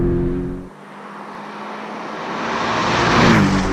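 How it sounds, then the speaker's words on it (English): A 2018 Porsche 718 Cayman GTS engine drones steadily with a thin rising turbo whistle building toward the end as it accelerates, fairly close. "Little turbo whistle."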